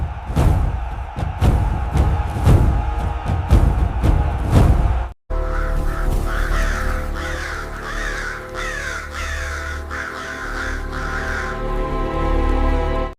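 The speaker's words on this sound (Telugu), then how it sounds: "ఈ పక్షులు ఇలా ఎందుకు అరుస్తున్నాయి?" Crows caw loudly and repeatedly in sharp bursts, then after a brief break a dense, continuous chorus of calling birds fills the scene alongside swelling music.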